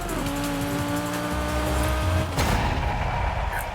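A TVR Sagaris engine in the Forza Horizon 5 racing game drones steadily with a rising and falling pitch, then drops into a rougher rumble as it shifts or slows, close and loud.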